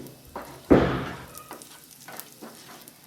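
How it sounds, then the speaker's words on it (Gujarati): Cumin seeds, a bay leaf, chillies and asafoetida drop into hot oil with a sudden loud hiss that fades into a soft, steady sizzle with faint stirring ticks, close and alone. "તેલ ગરમ થાય એટલે તેમાં આપણે અડધી ચમચી જીરું નાખી દઈશું"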